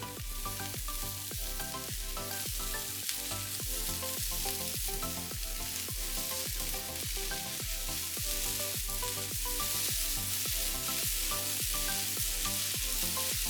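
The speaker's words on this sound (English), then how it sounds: "we're gonna put in 2 cups of carrots and stir everything together" Carrots are stirred into a hot pan of pork egg roll filling, giving a loud, steady sizzle with a regular rhythm of stirring strokes throughout, with no talking.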